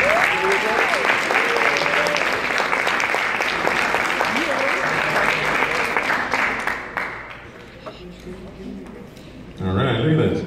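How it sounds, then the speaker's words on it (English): Banquet audience applause for a high school drill team, loud sustained clapping that fades out after several seconds before a voice starts talking close by. "So let's give them a great round of applause."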